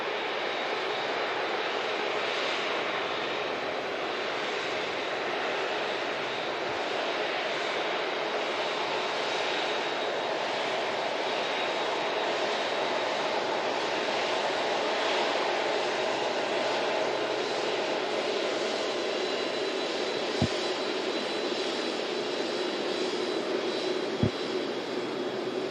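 An Emirates Airbus A380 arriving at Manchester Airport on a gloomy day, its jet engines giving a steady, loud broadband roar that holds for the whole stretch with no voices over it.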